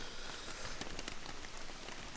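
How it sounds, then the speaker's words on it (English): Rain pattering on a camping tarp during a storm on a solo kayak trip along the Cashie River, a close, dense and steady hiss of drops with no voices. "it's storming pretty good right now."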